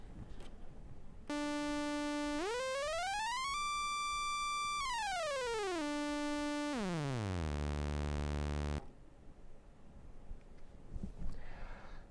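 A bright, buzzy synthesizer tone plays alone, sliding up in pitch, holding high, then gliding down into a low drone before cutting off.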